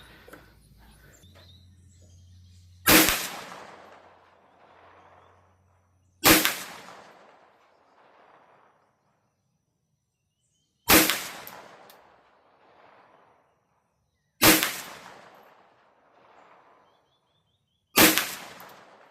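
Five sharp, loud gunshots from a Bear Creek Arsenal BC-9 bufferless AR9 9mm pistol firing Federal HST +P rounds, spaced a few seconds apart, each with a short decaying echo and quiet gaps between.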